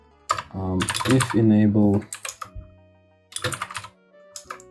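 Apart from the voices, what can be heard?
typing on a computer keyboard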